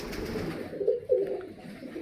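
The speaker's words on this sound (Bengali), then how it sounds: "নর পায়রা" Male Giribaz pigeons coo softly at close range, a few low rolling coos over a faint background murmur with no speech.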